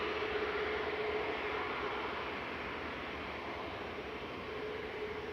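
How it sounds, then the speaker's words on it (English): An EasyJet Airbus A320 arriving from Nice at Manchester Airport makes a steady, fairly faint jet roar that holds evenly throughout. "EasyJet's just come in from Nice."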